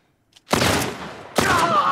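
Gunfire in the PS5 video game The Last of Us Part I: two loud bursts of shots, the first at about half a second and the second near 1.4 seconds, each ringing out, with no speech.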